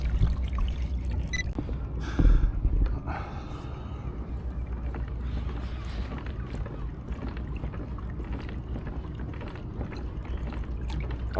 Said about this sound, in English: I'm going to carry on paddling up the river